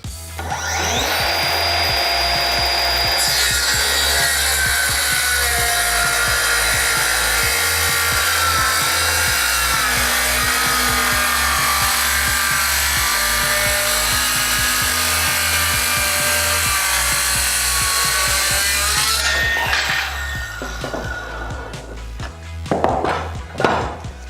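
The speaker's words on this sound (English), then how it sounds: "get it at full speed, and then push through the timber" An Ozito circular saw at full speed pushes through timber on a 45-degree bevel cut, a loud, sustained whining cut lasting most of the stretch before it winds down and gives way to clattering handling sounds.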